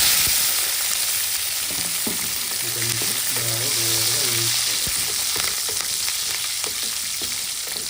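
Curry leaves, garlic and thinly sliced onion fry in hot oil, a loud, steady sizzle heard up close, with occasional stirring clinks against the pan and no talking.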